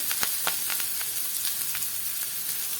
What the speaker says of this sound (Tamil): ஒரு பெரிய வெங்காயம் சின்னதாக கட் பண்ணி வச்சுருக்கேன் அதையும் சேர்த்துக்கலாம்